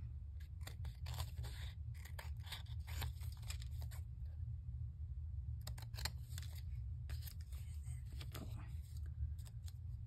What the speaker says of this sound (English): I'm trimming off the extra pieces that are here